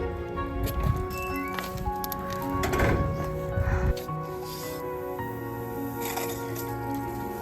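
Crackling, crunchy squishes as a stiff frozen garden hose is bent and handled on a farm in freezing weather, with irregular bursts over a faint steady hum.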